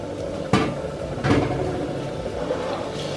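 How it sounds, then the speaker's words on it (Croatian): Chicken pieces hitting heated oil in a home kitchen: a couple of sharp clattering hits, then a steady, fairly close sizzle that runs on with no talking. "u zagrejano ulje dodajemo piletinu da se ona malo proprži"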